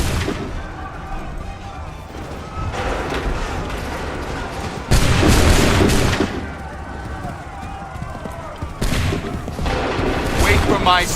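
Musket volleys and gunfire crack through a battle in Assassin's Creed III, with loud bursts around five and nine seconds over steady combat noise and shouted voices.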